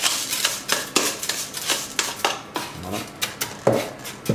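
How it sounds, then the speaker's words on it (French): Coarse salt and egg white being mixed for a salt crust for sea bass, giving repeated gritty scraping and clinking strokes in an uneven rhythm, close and moderately loud with no talking. "Je vais rajouter le blanc d'œuf. Et je vais mélanger."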